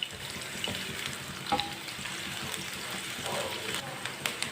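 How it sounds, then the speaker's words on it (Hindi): Finely chopped onion fries in oil in a pan, a soft continuous sizzle with occasional crackles and light stirring scrapes, close but fairly quiet, no talk. "प्याज बारीक कटा हुआ। प्याज को हल्का सा ब्राउन कर लेंगे।"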